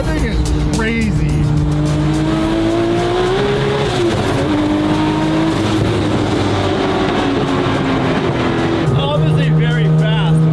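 A fast car racing along with a loud, continuous engine roar and road noise, tires squealing in rising and falling whines throughout, with people talking over it.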